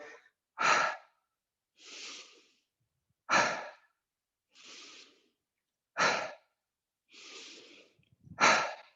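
Slow, deep breaths during a Zen yoga exercise with bending knees, alternating sharp inhales and softer, longer exhales in a steady rhythm, close and clear against near silence.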